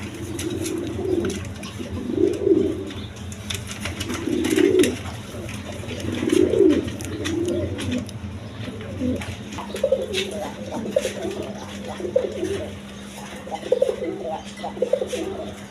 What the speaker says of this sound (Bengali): এখানে এক পেয়ার গড়রা কবুতর রেড কালার গড়রা